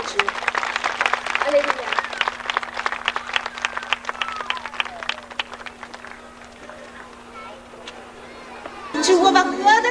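A church congregation claps, giving a dense, continuous patter of many hands that slowly fades. A steady low hum runs underneath, and a voice calls out over a rising crowd near the end.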